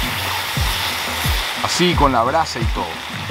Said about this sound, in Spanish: agua caliente.